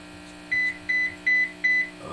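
A phone gives four evenly spaced electronic beeps, each a steady tone about a fifth of a second long, sounding clearly over a low background hum.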